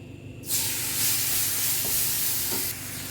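Mushrooms marinated in chilli powder drop into hot oil. A sudden loud sizzle bursts in, holds steady with a couple of faint clinks, then eases off.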